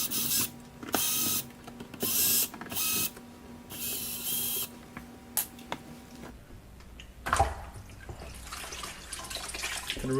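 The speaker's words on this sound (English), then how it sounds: "then you have the 4 screws that you need to remove" Screws come out of a Kenmore dishwasher with a power driver in several short, loud bursts of whirring, broken by clicks and clunks of parts being handled nearby, with no talking.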